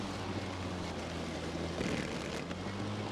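An EGO cordless self-propelled battery lawn mower runs with a steady motor hum and blade whir, moderately loud and continuous, with a slight surge partway through.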